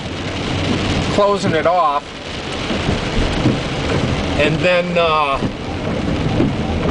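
Steady rain pours down with a low rolling rumble of thunder in Clovis, New Mexico, continuous and fairly loud beneath someone talking at intervals.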